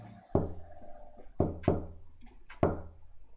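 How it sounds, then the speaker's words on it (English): Four hollow knocks land on a door in the video game Chaos;Child, sharp and fairly close, spaced irregularly across a few seconds with quiet between them. "And some asshole knocked on his door."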